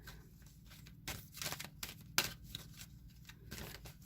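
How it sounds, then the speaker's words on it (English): Quiet riffling and soft slapping of oracle cards being shuffled by hand, in a few brief bursts against near silence. "I'm going to shuffle the Queen of the Moon Oracle real quick"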